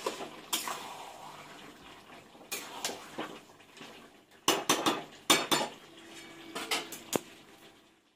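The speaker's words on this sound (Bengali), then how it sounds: "এখন ঢাকাটা তুলে দেখি, মাঝখানে একবার নেড়ে দিয়েছিলাম, নিচে লেগে যাবে" A lid lifted off a pot of simmering chicken curry and a spoon stirring, with sharp metallic clanks and scraping bursts spread through the stretch, close and fairly loud, no talk.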